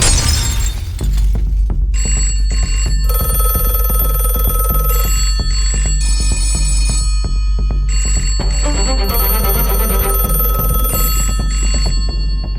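An old telephone bell rings loudly in repeated bursts with short pauses, set against a steady low hum and scattered clicks, with a brief noisy crash at the very start.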